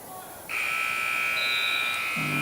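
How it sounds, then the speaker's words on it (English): A loud electronic buzzer sounds once, a sustained steady tone ending the second period of a high school wrestling match in a gym, with an announcer's voice near the start. "And there's the buzzer that'll end period 2."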